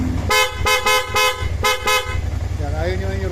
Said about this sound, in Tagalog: Ito yung busina